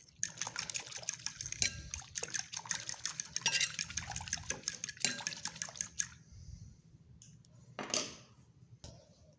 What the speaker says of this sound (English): Now we're going to mix this up real good.